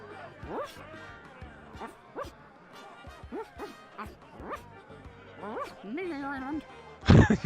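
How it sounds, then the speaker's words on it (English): A dog barks in a series of short yips and woofs at a moderate distance, in the point-and-click adventure game The Secret of Monkey Island Special Edition, with a louder burst at the very end. "Woof."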